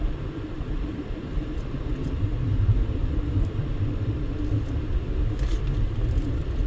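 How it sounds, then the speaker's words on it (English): Steady road traffic rumbles by on Tropicana Avenue in East Las Vegas, a continuous low drone of passing vehicles swelling slightly midway, with faint higher hiss above. "And we get traffic. Lots and lots of traffic."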